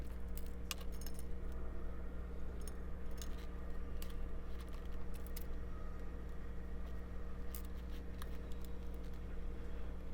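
Metal D-rings for a shoulder holster are handled close up in a workshop, giving scattered light metallic jingles and clinks over a steady low hum, with no talking.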